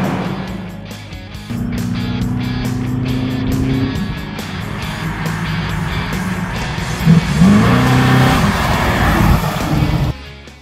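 A 1969 Camaro engine drones loudly from inside the car while driving, holding a steady throaty rumble before revving harder near the end and then dropping off, with no talk over it.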